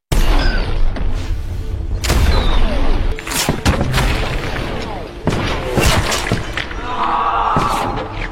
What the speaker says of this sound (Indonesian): Cat melemparkan bom ke arah pasukan Farik, namun Cat harus tertembak